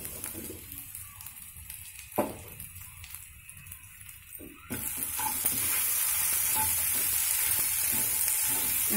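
Spices such as cumin, coriander powder and turmeric frying in a kadai with a little oil, stirring scrapes at first, then a steady loud sizzle that rises and holds close up.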